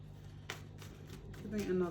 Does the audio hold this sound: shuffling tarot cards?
yes